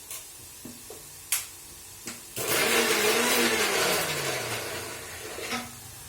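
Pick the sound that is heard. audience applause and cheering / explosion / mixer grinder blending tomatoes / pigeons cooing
mixer grinder blending tomatoes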